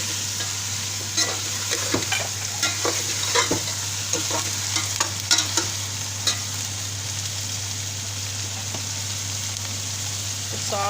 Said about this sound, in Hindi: ग्रीन हरी मिर्ची, ग्रीन चिली ऐड कर देंगे और इसको अच्छी तरह भूनेंगे